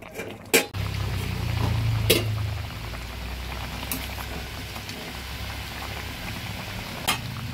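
Pabda fish curry with cauliflower and potato sizzles steadily in a pan while being stirred, with a few sharp clinks of the spoon against the pan over the constant close frying hiss.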